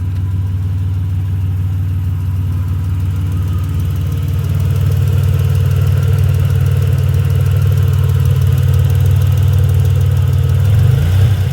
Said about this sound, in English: And now it's idling fine.